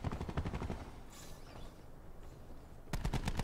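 Automatic gunfire in Call of Duty: Black Ops 4, hardcore mode, with rapid bursts of shots at the start and end and a quieter gap between, no voices.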